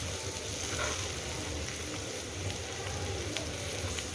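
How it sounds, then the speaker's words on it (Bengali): Katol fish fries in hot oil, a steady soft sizzle and crackle at close range, continuous and without voices. "এখন ভেজে নিচ্ছি, ভাজা হয়ে গেছে"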